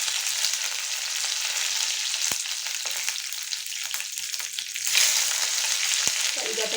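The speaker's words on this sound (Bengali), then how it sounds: "আর এটার সঙ্গে আমি কিছু কারি পাতা ফোড়ন দিয়ে দেব।" Curry leaves crackle and spit in hot oil, a dense continuous sizzle with sharp pops, rising briefly near the end.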